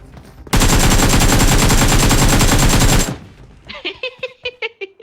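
Rapid automatic gunfire from the mobile battle-royale game BGMI sounds as a loud, dense burst lasting about two and a half seconds, then a short run of separate, evenly spaced shots.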